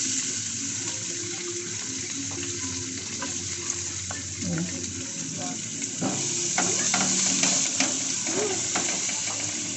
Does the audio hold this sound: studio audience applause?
no